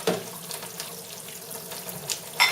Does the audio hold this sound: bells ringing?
no